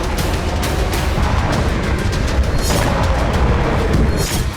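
Dense, continuous rumbling booms and blasts roll on without pause, loud and chaotic, like Hamas rocket fire and explosions striking Israel and Tel Aviv.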